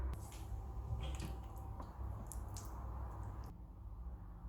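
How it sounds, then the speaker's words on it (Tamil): Chicken pieces being rubbed and coated by hand in a masala marinade, giving soft wet squishing and squelching sounds that continue steadily and fairly faintly before stopping. "இப்போ சிக்கனை சேர்த்து பிரட்டி வச்சிடணும். ஒவ்வொரு சிக்கனாக பிரட்டிக்கலாம்."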